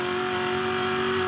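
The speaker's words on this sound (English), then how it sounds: "did you hear the big lift off the throttle?" V8 ute race car at Adelaide drops off the throttle, a steady loud engine drone with strong tonal whine holding through a brief continuous stretch, no voices.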